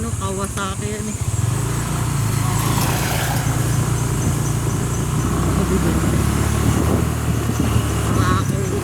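A Kawasaki motorcycle engine on a road, a loud steady droning hum that swells in after a brief quieter start and holds close and constant, with faint voices briefly audible near the beginning.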